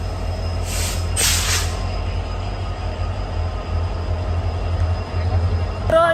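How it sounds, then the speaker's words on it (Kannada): A train departing Belagavi railway station rumbles steadily with low engine drone, a couple of hissing bursts early on, and a brief wheel squeal near the end. "ಟ್ರೈನ್ ಹೊಂಟೈತ್ರಿ"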